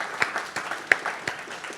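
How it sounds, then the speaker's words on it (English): An indoor keynote audience at a San Francisco tech conference breaks into brief, moderate applause, with scattered individual claps standing out from the steady patter. "I'd love to give them a quick round of applause if that's okay"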